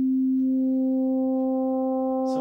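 Prophet 12 synthesizer sine wave with linear FM applied, a steady sustained tone holding a low fundamental with bright, even overtones, alone and at moderate level.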